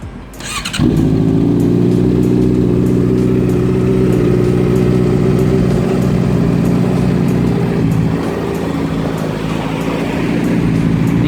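A 2017 Honda CB650F motorcycle with a full aftermarket exhaust fires up and settles into a loud, steady idle close by, with a brief dip in the engine note before it steadies again.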